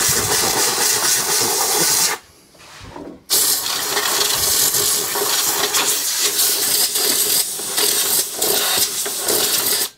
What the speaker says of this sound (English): So just blow some of the residual dust out from inside the motor system